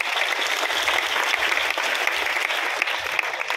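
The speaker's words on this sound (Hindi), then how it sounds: "भाई मंगलाराम जी कहा के लिए जोरदार ताली बजाएं।" Loud, steady applause from a gathered crowd at a cow-shelter stage event, dense clapping filling the whole stretch without pause.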